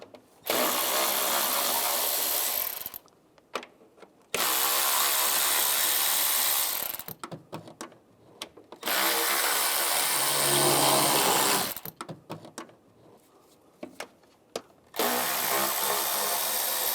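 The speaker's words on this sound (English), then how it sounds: "Now I'll take these bolts out on the top and on the bottom of the intake" An 8mm socket on a ratchet wrench works the intake bolts of a 2011-2018 RAM 1500 3.6L V6, making close, loud bursts of rapid ratcheting clicks that last a few seconds each and are separated by short pauses.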